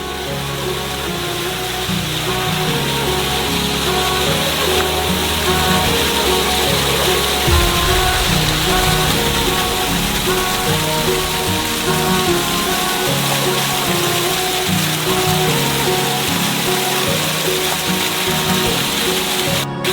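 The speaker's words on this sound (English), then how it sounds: "Secret waterfall, anyone?" A hidden roadside waterfall near the coast gives a steady, close, rushing roar of falling water throughout, with a low rumble that shifts briefly partway through. No one talks.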